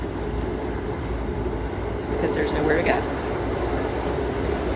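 Passenger train interior with a steady low rumble of rolling wheels and a faint squeal partway through, carrying on under close conversation throughout.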